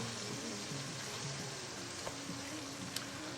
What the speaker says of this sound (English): You can hear it start to sizzle too with that lemon juice.